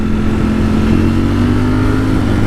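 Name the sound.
Ducati Streetfighter V4S motorcycle engine revving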